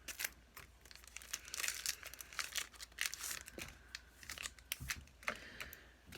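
Scissors snipping through crinkly plastic packaging on makeup brushes, close and quiet, with repeated sharp cuts, rustling and crumpling of wrap in an irregular rhythm.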